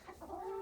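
A hen in a henhouse gives a single short, close cluck that rises into a brief drawn-out call.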